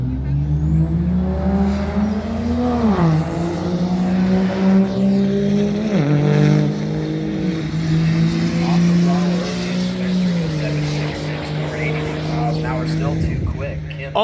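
Diesel truck making a drag racing run at a dragstrip, a loud, close engine roar climbing through several gear changes with dips in pitch, while people talk over it.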